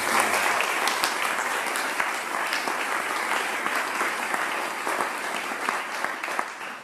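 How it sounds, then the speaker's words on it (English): Sustained applause from a faculty convocation audience honoring the organizing staff, a steady, dense wash of many hands clapping at close range from start to finish. "So if you could please give them a round of applause."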